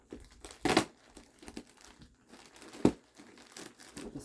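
Plastic packaging of a Honeywell TC89B-1000 smoke detector crinkles close by during unboxing, with two sharp crackling bursts and softer rustling between them.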